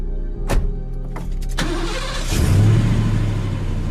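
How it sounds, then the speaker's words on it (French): A car engine, flooded after a failed start, cranks and catches before revving up, loud and close with a rising roar at the end. "Je parle du moteur, je voudrais que tu le mettes en route."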